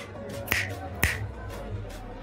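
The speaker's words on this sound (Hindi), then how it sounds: "फिर उसने चुटकी बजाकर भानु से कहा, चलो जाकर एक कोक ले आओ।" Two crisp, close finger snaps about half a second apart crack sharply over a quiet, low room hum, with nothing else happening.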